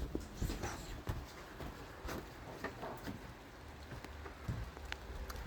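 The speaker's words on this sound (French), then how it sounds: "Il pleut." Steady rain falling outdoors around midday, a soft continuous patter with scattered louder drops close by and faint background stirrings throughout.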